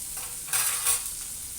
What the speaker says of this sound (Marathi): आता आपण ती हलवून घेऊया.